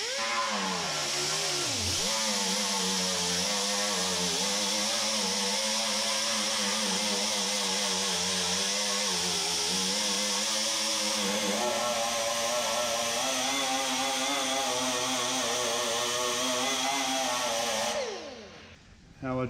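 A power sander whirs steadily against a car body panel, grinding paint off a dent before stud welding, loud and constant with a high buzzing tone that cuts off near the end.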